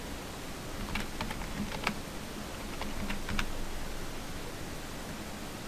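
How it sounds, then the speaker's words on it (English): Typing on a computer keyboard while working in an Excel spreadsheet: a steady run of soft, close key clicks, a few sharper taps standing out, over a constant background hiss. "Now I type it in capitals"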